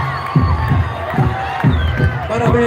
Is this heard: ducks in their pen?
no